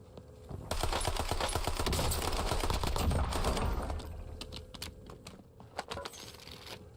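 Slow-firing gunfire in the video game Warzone, a rapid string of sharp cracking shots that sounds close at first, then thins into a few scattered, quieter bursts.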